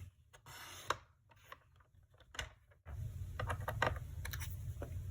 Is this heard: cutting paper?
yes